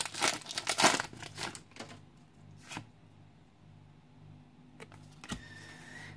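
Pokémon Shining Fates card pack being torn open and handled, with crinkling foil bursts early on, then quiet, faint rustles and a few sharp crackles.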